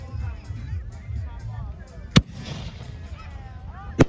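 Two sharp, loud firework rocket bangs go off at a July 3rd backyard show, one near the middle and one near the end, over steady crowd chatter and people talking.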